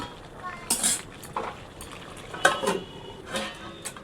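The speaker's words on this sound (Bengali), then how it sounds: "এরপর সবজির সঙ্গে মাছের কাঁটাগুলো ভালো করে মিশিয়ে নিতে হবে খুন্তি দিয়ে" A metal spatula scrapes and stirs boal fish bones with vegetables in a pan: a few scattered clinks and scrapes, close by, with a soft simmer beneath and a voice talking.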